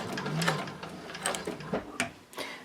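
A Techsew 4800 Pro sewing machine runs a short back stitch, giving uneven mechanical clatter and ratcheting bursts at close range with no voices.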